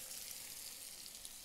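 Smashed burger patties frying in a hot pan with garlic-infused oil, a steady soft hiss and crackle of sizzling fat that carries evenly throughout, fairly quiet and with no talking.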